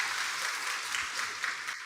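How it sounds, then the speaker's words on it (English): A corporate event audience gives a round of applause, a soft, even wash of clapping at moderate distance lasting the whole short stretch. "Shall we give him a round of applause?"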